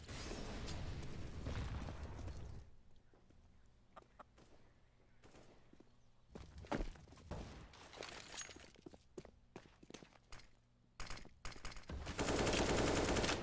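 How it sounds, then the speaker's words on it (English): A grenade blast in the video game Counter-Strike bursts loudly near the end, following scattered sharp gunshots and clicks over a quiet, low background. "that is the new nade sound"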